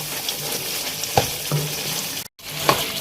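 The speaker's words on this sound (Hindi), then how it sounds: "इन सब चीज़ों को भी हमें इसमें अच्छे से मिलाकर साथ में भूनना है।" Chicken sizzles hard in a pan while being stirred with dry coriander powder and half a spoon of turmeric for chicken changezi, a loud close crackle with a few scraping strokes and a brief drop to silence near the end.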